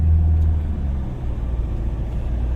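Van engine laboring hard up a steep hill in second gear near Phu Langka, a steady loud low rumble held at high revs from start to finish with no talk over it.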